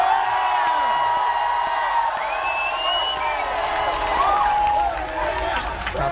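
A large outdoor campaign rally crowd in Washington Square Park, New York, cheers and whoops continuously, with shouts rising over a steady roar while a speaker talks over it.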